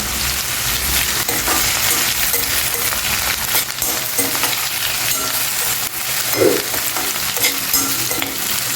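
Spices and ginger garlic paste fry in oil for wheat rava masala upma, a loud continuous sizzle with stirring scrapes throughout and a brief metallic clink near the end.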